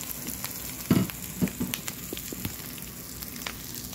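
Canned tuna sizzles steadily in a hot pan with leftover rice, a close, continuous frying hiss broken by a few soft knocks of stirring.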